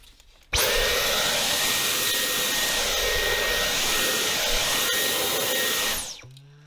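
Dyson V10 Absolute+ cordless vacuum cleaner switched on, running at a loud, steady whining roar for about five seconds before powering down, close by with no talk.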